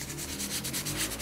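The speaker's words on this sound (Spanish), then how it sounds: "Primero le vamos a dar una lijadita con una lija finita, 360, si tienen, para que quede bien lisita la base" Fine 360-grit sandpaper rubbed over a wooden base for decorative painting, giving a steady, close scratchy swishing in regular back-and-forth strokes with no voices.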